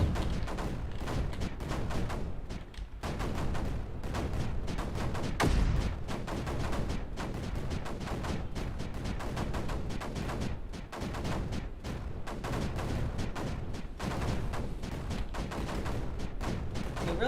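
Cannons in the video game Space Crew fire nonstop at advancing creeper, making a dense, continuous barrage of overlapping booms and thuds with no pauses and no talking.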